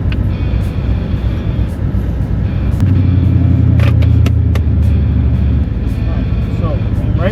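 Wife's car on treaded street tires without a line lock, doing a burnout at a drag strip, engine revving up into a loud sustained roar for several seconds over steady background rumble, with people talking.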